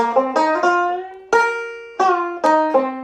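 A quick, twangy plucked-string bluegrass lick in the J.D. Crowe style, using sevenths and blue notes, with bright picked notes and bending slides, played close and loud, ending on a ringing run.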